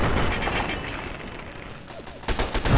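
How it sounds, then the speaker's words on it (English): Automated turrets fire in Fallout 3, a steady rumbling clatter of gunfire that breaks into a sharper, louder burst of shots near the end. "I'm just getting shot at by something. Oh, there's turrets."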